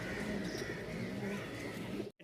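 Rajshahi pigeons coo softly and repeatedly, giving low, rolling calls over a quiet background murmur.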